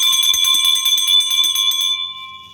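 A hand bell rings steadily, passed along during a Teacher's Day school ceremony, its bright metallic tone repeating in a rapid shaking rhythm for about two seconds before the ring fades out, with no voices over it.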